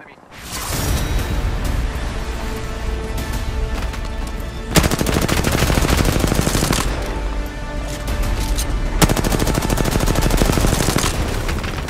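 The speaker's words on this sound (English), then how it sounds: "Shots fired at me." Loud, dense automatic gunfire from an Apex Legends match, sustained rapid bursts running almost continuously, with brief breaks and sharp impacts, close and overwhelming.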